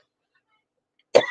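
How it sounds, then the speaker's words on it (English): A single short cough breaks out at the very end after near silence. "watch him cough his way"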